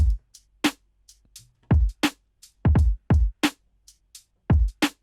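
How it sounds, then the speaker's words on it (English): A lofi drum beat with kick and snare hitting together in a loose, steady groove: punchy low thumps and crisp cracks land roughly every half second, with soft hi-hat ticks in between and no voices. "All of the drums together sound like this."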